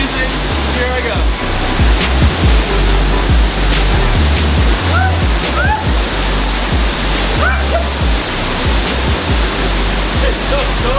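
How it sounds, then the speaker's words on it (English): Small waterfall in Chefchaouen, Morocco, pouring steadily with a loud, continuous broadband rush and low rumble, close by, with faint bird chirps scattered through. "we've arrived at one of the smaller waterfalls"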